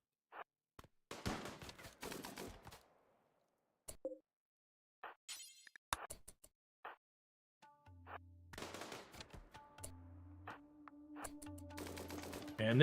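Bursts of heavy submachine gun fire in the video game RimWorld, short sharp volleys scattered through the clip with gaps of silence between them, joined later by a low steady hum and ringing tones.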